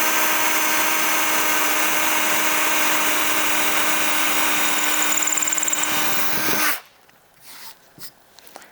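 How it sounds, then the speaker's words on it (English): A Japanese drill bit bores into jarrah hardwood with a loud, steady, high-pitched whine close up for about six and a half seconds. Near the end it rises briefly, then stops abruptly, leaving a few faint knocks. "The first test is we're just going to go and see how it goes on this hardwood here, which is a bit of jarrah."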